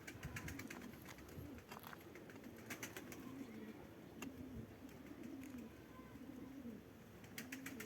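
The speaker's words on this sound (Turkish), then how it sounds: "Ne kadar kumru var ya." Soft, repeated turtle dove coos drift in from a short distance over a steady low background hum, with occasional faint bird chirps.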